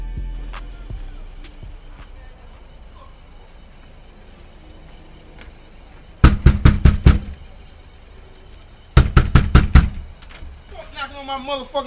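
Two bursts of hard, rapid pounding on a door, each a quick series of about six loud blows, separated by a pause, with voices and background noise around them.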